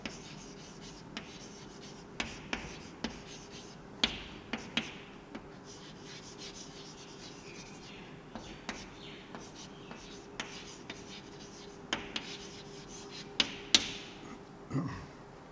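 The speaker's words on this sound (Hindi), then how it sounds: "यूँ लिखते हैं मोमेंटम" Marker or chalk strokes on a board during a physics lesson on momentum, soft scratchy squiggles and light taps coming in short bursts, quiet and close, with a voice faint at times.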